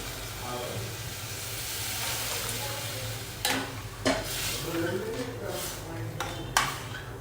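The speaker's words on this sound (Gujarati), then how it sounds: "હવે એની અંદર જે છાશ આપણે ગરમ કરી હતી એ ઉમેરી લેવાની છે." Heated buttermilk is added to sour Kutchi khichdi in a pot and stirred, giving a faint simmering hiss with a few clinks and scrapes of the spoon against the vessel.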